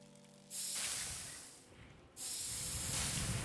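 An atomizer in the Book of Potions game sprays doxycide in two long hissing bursts. The first runs about a second and a half and fades out. After a short break a second steady spray starts.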